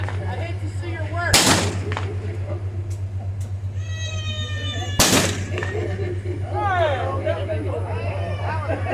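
Gunshots at a Florida Railroad Museum train robbery reenactment, two loud sharp blasts a few seconds apart over a steady low hum, with crowd chatter and voices throughout.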